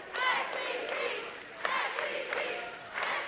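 A crowd at a girls' state championship basketball game cheering and yelling in a steady roar with swells and shouts, fairly close and continuous throughout.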